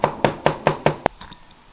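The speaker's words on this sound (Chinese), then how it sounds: "我再剁点那个姜蒜末" A kitchen knife chops ginger and garlic on a cutting board in six quick, evenly spaced thuds, loud and close, then stops.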